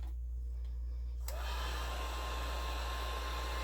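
A heat tool blows with a steady loud whir as it melts embossing powder on a handmade birthday card, running continuously throughout without any speech.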